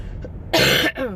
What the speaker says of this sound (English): we have this terrible chest cough